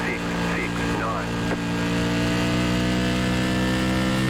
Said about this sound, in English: You can hear that sound of the engine, just a little gruntier each lap out of the corner